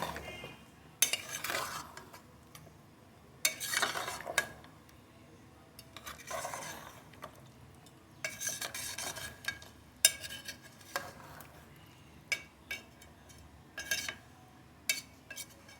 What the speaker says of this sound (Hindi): इनको मैंने अच्छे तरीके से ग्राइंड कर लिया था। अब ये भी इसमें हम ऐड कर देंगे। इसकी हम अच्छे तरीके से भुनाई कर लेंगे।